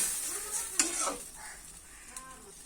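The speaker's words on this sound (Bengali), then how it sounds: "এখন আমি ঝোলের জন্য জল দিয়ে দিব। ঝোলটা ভালোভাবে মিশিয়ে নিব।" Water going into a spice masala that has been fried until the oil separates, then the gravy for a vegetarian kalmi greens curry being stirred, with a brief splash and knock, soft sizzling and scraping in the pan.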